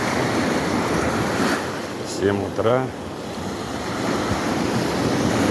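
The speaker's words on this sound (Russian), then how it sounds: "Небольшое волнение на море. Хочу снять звуки моря." Slightly rough sea at Vityazevo washes onto the shore in a continuous roar of surf with wind buffeting the microphone, while a voice speaks briefly in the middle.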